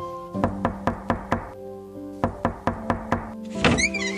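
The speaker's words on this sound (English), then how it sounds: "Why are you knocking at my door?" Knocking at a door in a children's English stage play, two quick rounds of about five or six evenly spaced sharp raps, clear and close, with a short pause between them and a brief rustle at the end.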